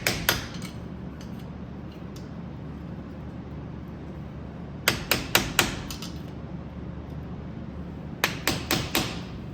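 Hammer strikes on a scraper wedged under the dust cap of a 2006 Chevy Silverado front wheel hub, loosening it: a few sharp metallic taps early, then a quick burst of four blows, a pause, and a final burst of four.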